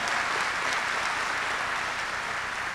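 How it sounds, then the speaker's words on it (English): A crowd at the National Women's Hall of Fame induction ceremony gives the event organizers a warm round of applause, thick continuous clapping that holds steady throughout. "Let's give them a great round of applause for organizing this fantastic event."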